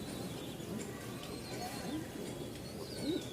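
Giribaz pigeons cooing, soft low coos repeating at intervals in a busy loft or market setting, with people talking over them.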